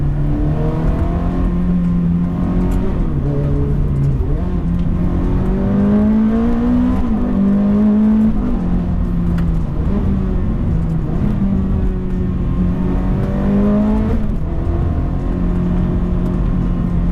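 A Ferrari F430 F1 with its mid-mounted engine revs steadily while driving, a loud close drone that rises and falls in pitch through repeated gear changes with no talk.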